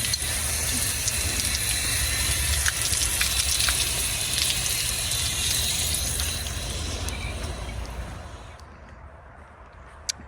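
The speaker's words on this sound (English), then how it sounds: "Nice that they have these showers here. I'm just gonna rinse off most of the gear." Shower water spraying steadily onto diving gear being rinsed, a loud continuous hissing splash close by that tapers off and stops near the end.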